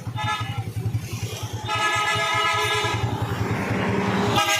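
A motorcycle engine running right after servicing, a steady close idle with a low pulsing throb, rising to a stronger, busier drone midway and holding loud throughout.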